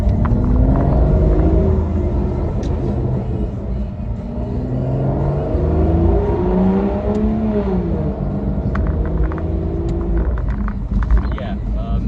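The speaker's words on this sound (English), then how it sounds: "with this Bamford Rose Exhaust" A 2009 Aston Martin DBS 5.9 V12 Volante convertible with a Bamford Rose exhaust drones steadily on the road, its deep baritone engine note rising and falling through gentle revs, close and continuous.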